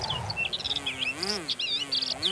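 Bees drone steadily close by, with a low wavering hum under high chirping bird calls outdoors, in an animated cartoon.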